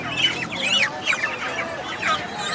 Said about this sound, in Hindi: ये एक मुर्गी अजीबोगरीब सी हालत में पड़ी हुई है।